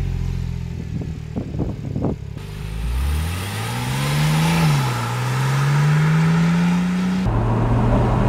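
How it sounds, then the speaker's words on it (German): A 2010 Porsche 997 Turbo Cabriolet, 500 hp, revs from idle in a rising, swelling engine roar that holds high before dropping back, heard up close with no talking. "Also der ist ja wirklich toll, der Sound bei dem Auto."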